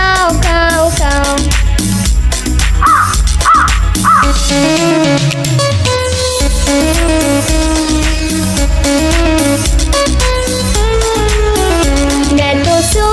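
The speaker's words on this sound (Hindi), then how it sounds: "मुझे कौवे ने जगाया, बोला काऊ काऊ काऊ।" Several rough crow caws ring out in a quick cluster near the start, set against a loud, bouncy children's nursery rhyme backing track that keeps playing all the way through.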